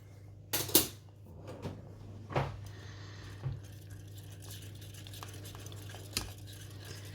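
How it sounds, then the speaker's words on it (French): A granola mixture being stirred in a pan as it melts, with a few separate knocks and scrapes of the spoon against the pan over a low steady hum, fairly quiet and close. "on va faire bien fondre ce mélange en continuant de remuer"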